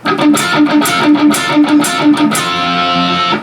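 Electric guitar plays a riff, a short repeated note figure played several times in quick rhythm, then a ringing held note, loud and close.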